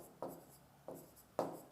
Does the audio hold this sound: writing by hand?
yes